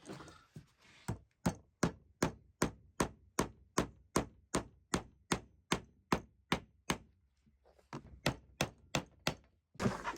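A hammer strikes a copper nail in a steady, even rhythm, about two blows per second, sharp and close, with a brief pause before a final few hits.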